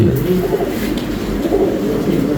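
Low, steady cooing of pigeons at a pigeon racing tournament, continuing throughout, with a soft murmur of background noise and no clear speech.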